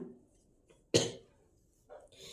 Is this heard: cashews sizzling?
no